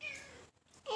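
A pet cat named Raspberry gives two short meows close by, the first drawn out and the second clipped after a brief gap.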